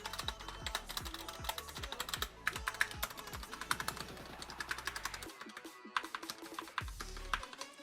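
Rapid typing on a Cougar Puri TKL mechanical keyboard with noisy stabilizers: close, clacky keystrokes in quick bursts with deeper thuds from the larger keys and a few brief pauses.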